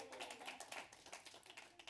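Audience at a church celebration service clapping, a light and fairly faint patter of many hands in an irregular rhythm that continues throughout.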